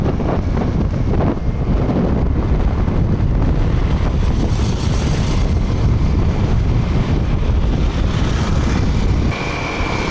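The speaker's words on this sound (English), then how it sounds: "Slow down, because it's very windy." Strong, steady wind buffets the microphone of a moving vehicle on the streets of Da Nang, Vietnam, a loud continuous broadband roar with no pauses across the whole stretch.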